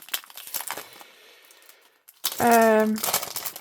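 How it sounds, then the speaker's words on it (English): Crinkling and tearing of plastic wrapping as a savings challenge envelope is unwrapped, bursts of crisp rustle at the start and again near the end, with a voice talking over the latter part. "Shall I unwrap it for you?"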